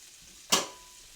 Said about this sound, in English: Okay, so the butter's melting there in the pan